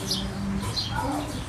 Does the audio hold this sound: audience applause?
no